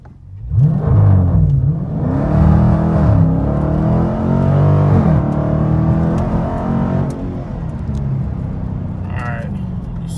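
A 2019 Dodge Challenger ScatPack with spinning tires roars and revs up hard in a 0-60 run, loud and close, with a rough rumble that holds steady and then eases slightly.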